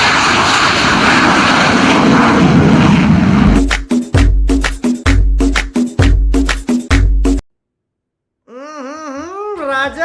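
A loud aircraft engine roars steadily for a few seconds, then breaks into choppy, stuttering bursts, goes silent, and ends with a wavering wail.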